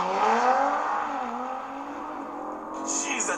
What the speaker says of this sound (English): Unofficial launch control.